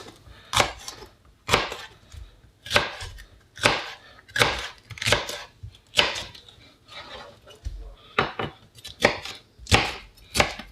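Vegetables are chopped with a knife on a board at a medium cut, about fifteen sharp thuds in an uneven rhythm, close and clear with quiet pauses between strokes.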